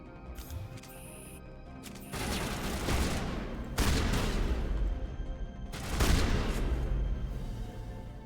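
Gunshots from a weapon in a video game, a few loud broadband blasts with lingering noisy tails over a steady mechanical background, no speech.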